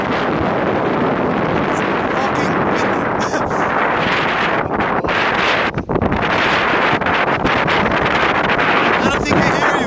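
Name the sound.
strong wind blowing at an outdoor sports event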